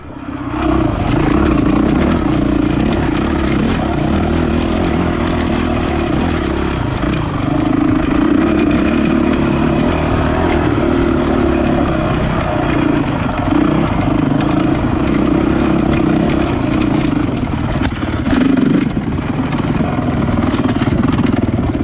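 A Honda CRF450X dirt bike climbing a rocky hill during a desert 100 race, its engine droning loud and close with a steady buzz, revving as it rattles over rough ground, heard from the rider's position.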